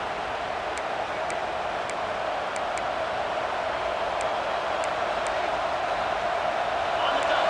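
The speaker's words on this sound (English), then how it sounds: "This crowd bringing the energy and noise early." Steady roar of a stadium crowd in EA Sports College Football 26, a broad continuous wash of noise with faint clicks, carrying unchanged through the whole stretch.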